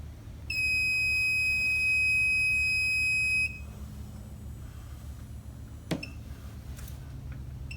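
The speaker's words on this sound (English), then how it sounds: "I will get the low liquid alarm" A low liquid alarm on an oil water separator sounds as a steady, loud electronic tone for about three seconds over a constant low machinery hum, then stops, followed by a brief click.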